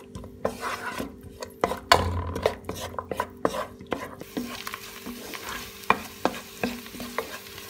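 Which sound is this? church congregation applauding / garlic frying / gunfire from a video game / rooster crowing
garlic frying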